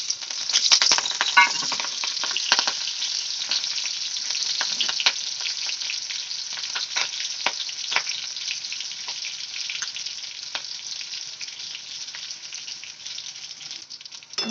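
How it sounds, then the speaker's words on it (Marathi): Green chillies sizzle in hot oil for a fasting-style sabudana khichdi, a steady bright crackle with scattered sharper pops, fairly close and moderately loud, with no talking. "आता तेल गरम झाला इथं हिरव्या मिरच्या टाकायचं"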